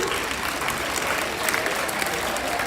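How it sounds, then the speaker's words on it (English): Children applauding at a school youth parliament event, a dense, even round of hand clapping from a large group, steady and continuous throughout with no break. "Give them a very big hand clap, children."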